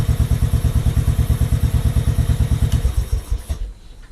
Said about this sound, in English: straight away it's idling at 1080 RPM